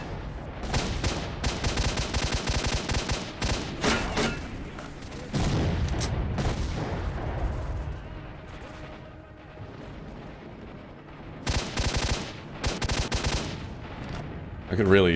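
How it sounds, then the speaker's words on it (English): Gunfire and explosions in the video game S.T.A.L.K.E.R. Shadow of Chernobyl, with loud bursts of rapid shots and booming blasts coming in dense clusters and then falling away to quieter stretches, returning near the end. "I also am not going to hear anything again after all these explosions."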